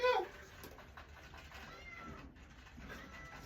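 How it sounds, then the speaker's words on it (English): A cat that eats out of rat traps meows, one loud close cry at the start, then faint low sounds in the background. "I've got a cat that likes to eat out of rat traps."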